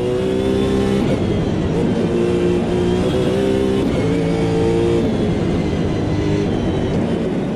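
A supercar engine in the Automobilista 2 racing game drones loud and close, its pitch climbing and dropping repeatedly through gear changes in a steady, aggressive roar.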